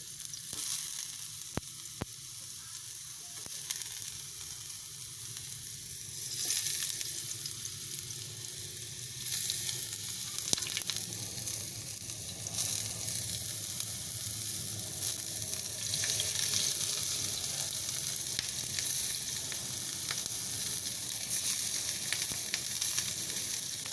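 Cucumber slices frying in oil on a hot tava give a steady, close sizzle that keeps going without a break, with a few faint scrapes and taps and no talking.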